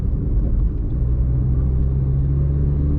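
Maruti Swift VXi automatic car accelerating, a steady low engine rumble and drone heard from inside, loud and continuous with no talk.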